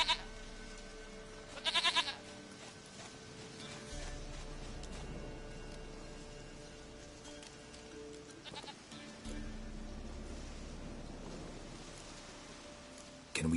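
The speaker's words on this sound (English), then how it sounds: "Goat of mine, dearest," A goat bleats in the video game The Witcher 3, a sharp quavering cry near the start over a quiet ambient background, followed by a couple of fainter calls and soft rustling.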